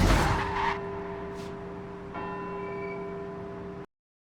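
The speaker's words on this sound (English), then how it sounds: "Hard on those carbon ceramic brakes now." A car brakes hard on carbon ceramic brakes in Forza Horizon 4, giving a loud tire screech at the start that gives way to a sustained ringing, tonal squeal before cutting off abruptly.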